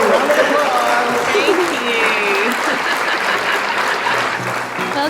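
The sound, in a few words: audience applause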